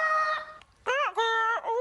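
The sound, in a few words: played sound effect of a Humpty bird call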